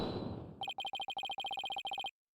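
A phone rings in Apollo Justice: Ace Attorney, a rapid electronic trill of short bursts repeating for about a second and a half after a brief noisy lead-in, then stopping abruptly.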